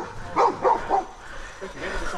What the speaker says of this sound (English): I had to stand by and watch as Joey the Kelpie bailed the boar